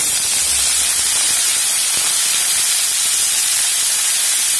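Sheem beans dropped into a teaspoon of hot oil in a kadhai on a gas stove give a steady, loud broadband hiss and sizzle that holds evenly throughout, with no voices.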